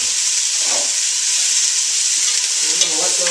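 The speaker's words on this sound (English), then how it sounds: "Let it saute along with the cup of carrot." Onion and carrot sautéing in a pan for lentil soup, giving a close, loud and steady sizzling hiss with a few faint stirring scrapes, and no talking.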